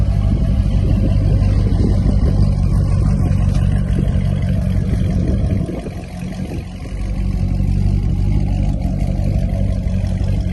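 A C6 Corvette engine runs loud and close, holding a throaty rumble that dips briefly partway through before rising again, with no talking over it.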